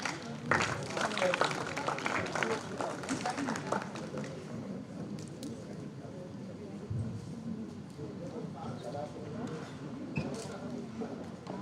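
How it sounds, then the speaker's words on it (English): An audience at a national radiographers' conference applauds with a burst of clapping that peaks early and then thins into scattered claps beneath low chatter. "A huge round of applause to all of them."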